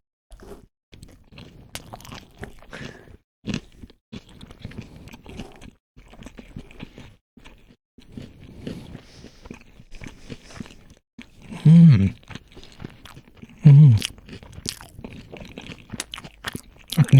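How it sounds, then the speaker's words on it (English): Crunchy homemade cucumber sushi is chewed close to the mic, with scattered crisp bites and crunches and a few louder, sharper chomps later on. "Now you're going to experience the crunch, the sensation."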